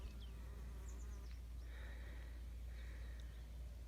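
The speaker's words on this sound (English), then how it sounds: "And there's more bees over there." Bees buzz faintly in the distance, a soft, continuous drone over a low background hum outdoors.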